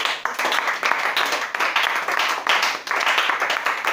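A church congregation at a French-language worship service applauds steadily, dense hand-clapping swelling and pulsing in waves throughout at a fairly loud, close level.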